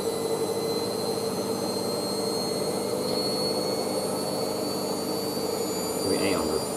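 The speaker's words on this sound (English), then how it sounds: "Oh, acceleration now. going for it for a wash spin." A new washing machine ramps up into its spin cycle, reaching about 800 RPM, with a loud steady whirring drone and high whining tones that rise slightly near the end.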